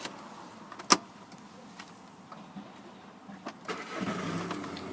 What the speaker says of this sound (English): And if we just get the car started up,